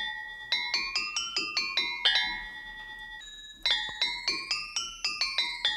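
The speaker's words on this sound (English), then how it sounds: "drop both an octave and I get kind of a thicker bell." Granular synthesis bell tones pitched down an octave, a thicker, fuller bell sounding in a quick rhythmic series of struck notes, each ringing and decaying, with a pause and a held tone midway before the repeating pattern resumes, clear and alone.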